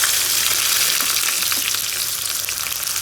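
Sliced onions fry in a generous amount of oil, giving a dense, steady sizzle that hisses evenly and loud throughout with no break and no voices.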